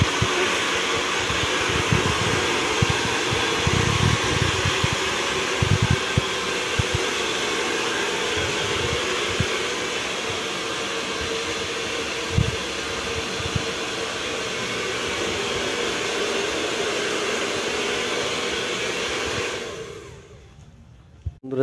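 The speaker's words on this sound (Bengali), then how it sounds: "দেখলেন আমি ড্রায়ার দিয়ে শুকালাম" A hair dryer blows a loud, steady roar while drying freshly shampooed hair, running continuously up close before cutting off near the end.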